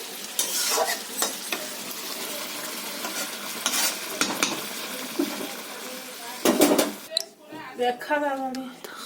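Cooked bhangar fish curry being stirred in a pan, with intermittent scraping stirs and soft sizzling bursts close by, while a voice talks in between.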